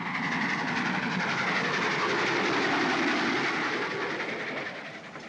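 A train rolls steadily along the rails with a dense, continuous rumble and faint rhythmic clatter, close and loud, easing slightly toward the end, in a 1946 film.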